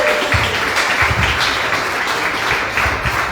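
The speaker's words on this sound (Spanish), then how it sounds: "Démosle un fuerte aplauso al Señor, hermanos." A church congregation gives hearty applause, a steady loud clapping with several close, punchy individual claps standing out over the crowd.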